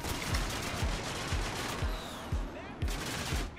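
Rapid gunfire from Call of Duty: Modern Warfare pounds against a shield in a steady stream of sharp, loud impacts, with hits landing at a regular rhythm throughout.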